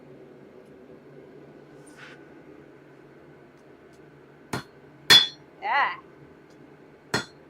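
Metal struck on a broken anvil while forging a dagger, a quiet room broken by a few sharp, ringing hammer blows and a clanging scrape near the end, with a brief exclamation from a voice.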